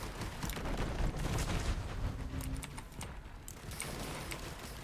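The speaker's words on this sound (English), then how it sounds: "And the fireworks have started." Fireworks from an item in Risk of Rain 2 pop and crackle in dense rapid bursts, a busy rattling barrage that fades slightly toward the end amid game combat noise.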